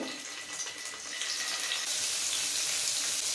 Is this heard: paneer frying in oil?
yes